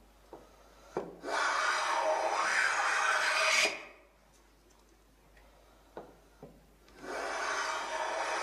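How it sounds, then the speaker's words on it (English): A hand plane takes fine shavings from wood while a furniture maker prepares the plane. Two close, steady rasping strokes are heard, the first about two and a half seconds long and the second starting later, with a few light knocks in the quiet gap between them. "Just wound it back in to take some finer shavings. It's cutting beautifully."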